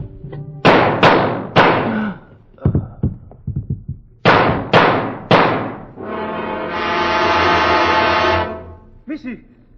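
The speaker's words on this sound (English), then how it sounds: "I hear a gunfire." A radio drama gunfire sound effect: three sharp, loud bangs in quick succession, a scatter of smaller cracks, another burst of three shots, then a sustained harsh roar that fades out.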